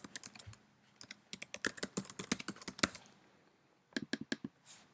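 Someone types an email address on a computer keyboard in quick bursts of close, crisp key clicks, pausing briefly before a second short burst.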